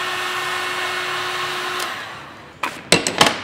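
Heat gun warming a gearbox bearing on a Ford Mondeo Mk5 2L diesel, blowing with a steady whirring hiss that winds down after about two seconds, followed by a few sharp metallic clanks.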